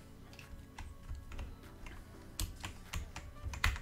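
Typing on a computer keyboard with one hand during a game, irregular clicks and taps at moderate closeness, a few sharper louder keystrokes near the end, with no talking.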